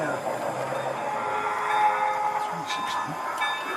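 A model railway train runs on a layout, giving a steady mechanical whir and rolling rumble with a few brief higher squeals, and people talk faintly in the background.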